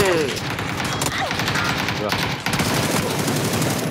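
Rapid video game gunfire rattles in dense bursts of automatic shots throughout, loud and close, with players talking over the shooting.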